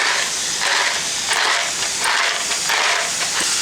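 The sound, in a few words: onion cooking in olive oil in a pan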